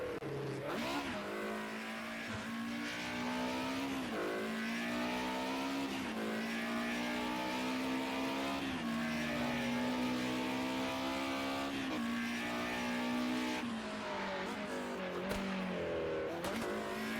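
A Nissan Skyline Group A race car engine from a virtual race at Oulton Park Island howls loud and close, revving up and dropping through repeated gear changes, with faint commentary underneath.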